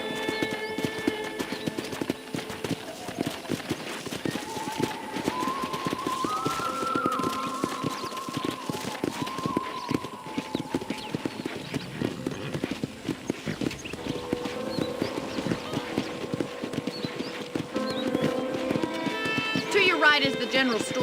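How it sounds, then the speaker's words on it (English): Horse hooves clip-clop steadily in Red Dead Redemption as a rider walks a horse toward a ranch, rhythmic and close, with occasional snorts and game music, while someone talks over it. "let's see if you can still ride a horse"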